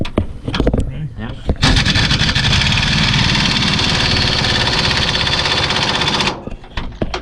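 Air impact gun tightening the leaf spring bolts on a 1999-2007 Ford F-250/350 rear suspension, a loud continuous rattling burst of about five seconds, close up, with brief talk and clanks before and after.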